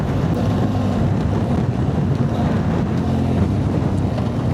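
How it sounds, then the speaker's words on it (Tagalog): Steady, strong wind roars and buffets the microphone throughout, with a low rumbling wash and no voices. "Malakas ang hangin dito."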